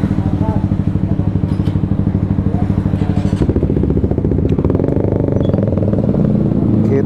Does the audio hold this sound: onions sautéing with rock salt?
no